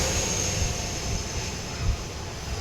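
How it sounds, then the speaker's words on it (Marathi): A passing airplane drones overhead as a steady, broad rumble that holds at an even level throughout, with no voices. "विमान गेलं."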